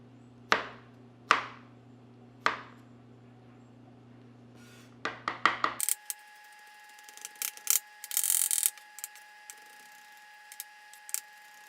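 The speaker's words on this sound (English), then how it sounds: "we're going to go ahead and just chop this garlic up" A knife chopping garlic into chunks on a cutting board, a few sharp spaced taps at first, then a quick flurry of close, crisp strikes, followed by scattered handling clatter.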